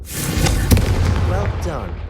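A Confringo fire spell blasts in the video game Hogwarts Legacy, a loud fiery boom with crackling burst and rumble, followed by a voice speaking as the blast fades.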